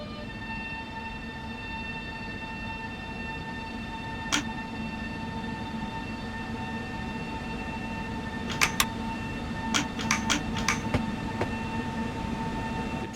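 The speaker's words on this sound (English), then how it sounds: "Now, drive the train according to the signal indication." A train running in the Simrail simulator under ETCS Level 2 signalling: steady rolling rumble with a constant tonal whine, plus a few short sharp clicks or beeps near the middle and end. No talking.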